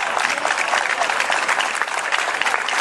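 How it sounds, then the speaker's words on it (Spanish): A crowd claps steadily throughout a birthday celebration honoring a mayor in Barranquilla, with dense, continuous applause filling the whole moment at close range. "¡Fuerte, fuerte, fuerte el aplauso, que se escuche!"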